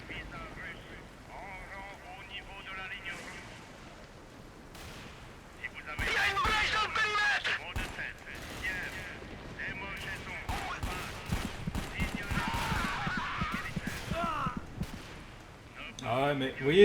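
Gunfire and explosive blasts from a combat scene in the video game Dark Sector, loud bursts and sharp cracks clustering from about six seconds onward over a low rumble, with a voice talking throughout.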